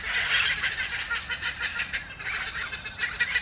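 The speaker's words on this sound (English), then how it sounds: "This tree have a lot of bird." A tree full of birds gives a dense, continuous chorus of overlapping chirps and calls, close and lively, pulsing slightly in loudness, with no voices.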